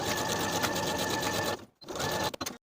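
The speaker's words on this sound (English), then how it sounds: "sew this seam with a 1/4 inch seam allowance" A sewing machine sews a quarter-inch seam on a jacket sleeve with a loud, steady whir that breaks off briefly, restarts, then ends in a couple of quick stitches.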